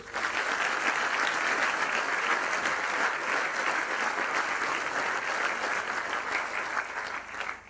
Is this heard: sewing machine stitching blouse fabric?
no